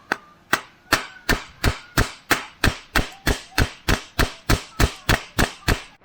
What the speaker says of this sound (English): I'm just going to hammer it.